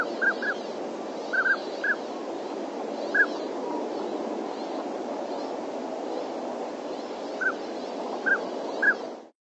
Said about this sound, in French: on entend en fait cette espèce d'inspiration, le cri et expiration, comme si en fait l'oiseau montait en tension, poussait son cri et après se relâchait